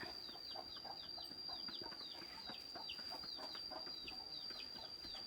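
Several chickens cluck and chirp softly at moderate distance, a steady busy murmur of fowl with a faint high whine in the background.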